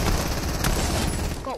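Rapid bursts of gunfire from a knockout air-raid round in a shooter video game, loud and dense throughout with a sharp crack near the middle, while a player's voice chimes in at the end.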